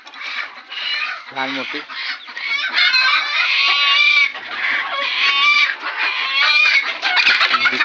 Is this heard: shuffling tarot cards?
no